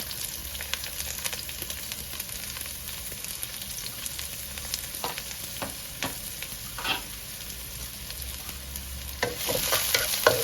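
Finely chopped onion sizzling in hot oil for a Kerala moru kachiyathu curry, a soft steady fry with a spoon stirring and scraping the pan now and then, ending in a brighter burst of sizzle.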